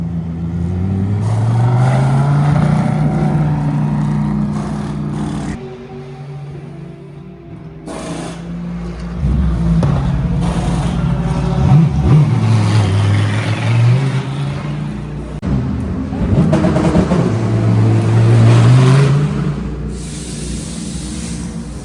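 GT race car in free practice at the Paul Ricard circuit, its engine note rising and falling loudly as it pulls away and passes, with sustained roar and shifting pitch over about twenty seconds.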